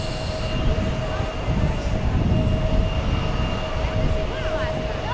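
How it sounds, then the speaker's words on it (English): An Embraer 175 jet taxiing in to park at JFK sends out a loud, steady engine whine and rumble with a sustained high tone, close and continuous. "Is that the Boston Embraer 175 parking?"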